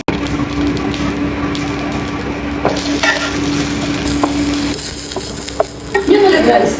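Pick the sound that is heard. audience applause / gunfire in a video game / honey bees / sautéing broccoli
sautéing broccoli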